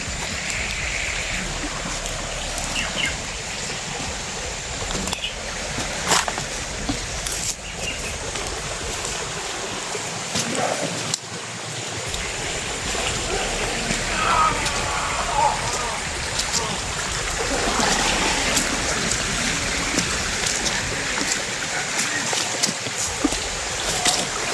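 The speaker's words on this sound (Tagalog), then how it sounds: "Hindi tayo makalapit Brad dahil may sapa." A stream blocks the way across; its water rushes and trickles steadily, close and fairly loud, with occasional splashes and handling bumps, and no speech heard over the flow.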